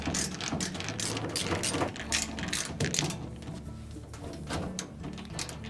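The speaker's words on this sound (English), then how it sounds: "and then install the 3 screws." Screws being driven in while installing the drain pump on a Whirlpool washing machine, heard as close, rapid ratcheting clicks and metallic rattling in uneven bursts, with no talking.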